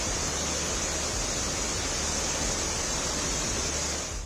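Floodwater rushes in a loud, unbroken roar after a cloudburst in Sahastradhara, Dehradun, surging through a temple area, with a dense, close wash and no breaks.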